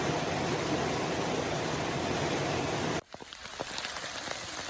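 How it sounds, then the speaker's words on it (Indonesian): Rain falls in the mountains of Lembah Ramma, South Sulawesi as a steady, dense hiss for three seconds, then cuts to a softer patter with scattered individual drops. "Daripada menunggu hujan yang tak tahu kapan berhenti"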